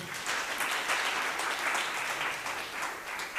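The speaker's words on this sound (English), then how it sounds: "Can we give Stacy a round of applause?" Audience applause at a Wits University student entrepreneurship programme launch, a steady dense wash of clapping lasting a few seconds at moderate level, with no voices.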